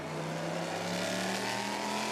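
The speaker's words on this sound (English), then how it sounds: "Does make a great noise, that car" Race car engine howling at full throttle during the Le Mans Endurance Legends race, a loud, steady, sustained roar that holds constant for the whole stretch with no talk over it.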